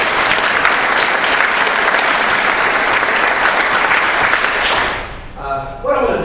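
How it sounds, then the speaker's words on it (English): An evening gathering's audience applauds in a sustained, dense wash of clapping that stays loud and steady, then fades out near the end as a voice begins to speak. "I think you deserve a hand of applause for this wonderful gathering"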